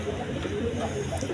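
A pair of coloured Golla pigeons cooing softly in a short, low burble beneath someone talking close by.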